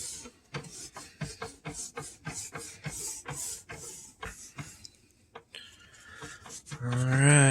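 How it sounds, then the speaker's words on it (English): A rag wet with alcohol scrubs varnished oak cabinets in quick, rhythmic back-and-forth rubbing strokes, close and fairly loud, ending in a louder jumble of handling noise. "Don't scrub too hard, just keep it wet."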